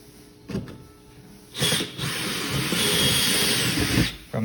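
A drill cleans burrs from a rivet hole in a light bar box, with a short tap, then a steady whirring buzz of several seconds close by that stops abruptly.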